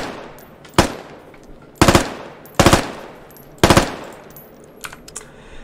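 An M4 rifle in the game Squad fires on three-round burst, four sharp, loud bursts of rapid cracks spaced about a second apart, each ringing out before fading, with a couple of fainter shots at the end.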